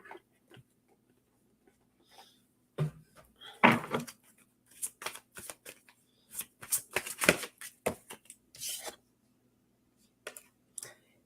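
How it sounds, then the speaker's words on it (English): Oracle cards are shuffled by hand in quick bursts of riffling and slapping, close and crisp, with pauses between handfuls in a quiet room. "Pull a few oracle cards with this."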